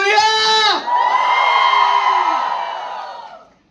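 A crowd at a Marathi song launch event cheers and whoops loudly in one long, sustained roar lasting about three seconds before fading out.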